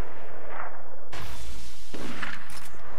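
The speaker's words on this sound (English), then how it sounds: "Oh, hey, grenade!" A grenade goes off in Borderlands 2, a sharp broadband burst followed by a second blast, both loud and close amid game noise.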